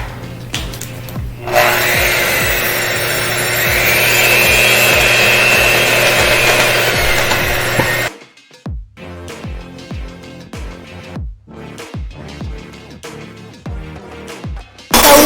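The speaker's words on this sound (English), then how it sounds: "We just finished whisking some of the crust filling." An electric mixer whisks shortbread crust filling for lemon shortbread bars, a loud, steady whirring drone lasting several seconds before cutting off, followed by a series of scattered knocks and clacks.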